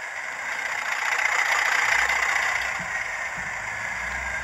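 A Hornby TTS sound-fitted Class 31 OO gauge model diesel locomotive idles, a steady mid-pitched engine drone with a light rattle, running continuously and moderately loud with no talk.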